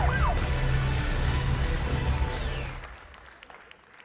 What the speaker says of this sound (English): you guys were totally right to applaud